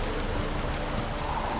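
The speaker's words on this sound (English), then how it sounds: "I like rain. Keeps the roads indoors. Hope rains like this come sowing time." Steady rainfall in The Witcher 3 game world, a dense even patter of drops on surfaces, soft and continuous throughout with no voices.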